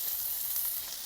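Prawns sizzling in rendered speck fat in a pan, a short, steady, close hiss of frying with faint crackles throughout.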